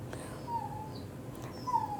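A stubborn, hyperactive dog whines in a few thin, high whimpers, faint against a steady low background hum, with no voices.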